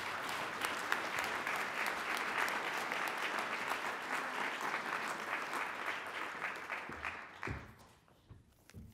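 An audience claps steadily and warmly for Senator Lisa Murkowski at a hall of fame induction ceremony, sustained dense applause that fades out near the end.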